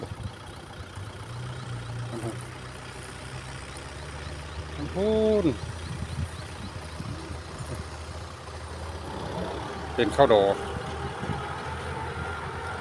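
A tractor engine runs in a rice field during rainy-season rice sowing, a low, steady rumble in the background beneath people talking.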